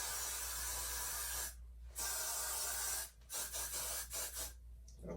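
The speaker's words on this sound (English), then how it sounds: "So I'm going in with the Gots to Be Blue Blast and Freeze spray." Got2b Blue Blast and Freeze hair spray sprayed onto hair in several close, loud hissing bursts: one long blast, a pause, then a series of shorter sprays separated by brief gaps.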